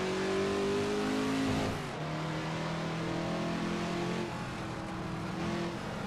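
Racing car engines roar continuously in an Assetto Corsa race, a BMW and a Mazda among them, with steady high revving, a brief gear shift dip, and no talking over it.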